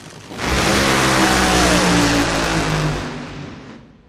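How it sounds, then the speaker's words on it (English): Drag racing car at an NHRA national event launching hard, a loud, close, sustained roar that swells quickly, holds for a few seconds, then fades as the car pulls away, with no voices over it. "Alexis hit the gas too soon"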